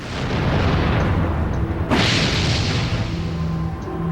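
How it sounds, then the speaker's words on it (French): A tanker truck explodes in a deep, rolling boom that fills the whole clip, with a sharper burst partway through and a sustained roar after it. No one speaks. "L'explosion est visible depuis toute la ville."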